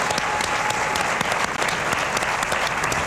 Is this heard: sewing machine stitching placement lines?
no